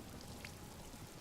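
Rain falls steadily in a Yakuza Kiwami video game cutscene, a faint, even hiss of drops with no other sounds over it.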